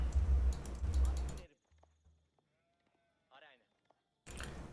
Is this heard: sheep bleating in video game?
yes